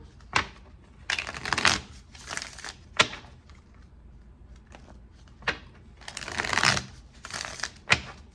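Repeated bursts of tarot cards being riffled and shuffled, close and crisp, with short pauses and a few sharp snaps between the runs.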